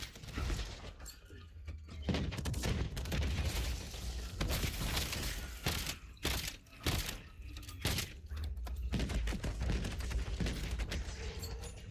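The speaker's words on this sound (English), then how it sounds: "Tossing frag." Grenade toss and blasts in Black Ops 7 gameplay, with dense bursts of gunfire and booming explosions over a continuous loud battle din, sharp cracks spread through the twelve seconds.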